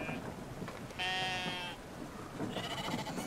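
Sheep in the Brothers: A Tale of Two Sons video game give a clear, wavering bleat in the middle. A softer second bleat follows near the end over low ambient game sound.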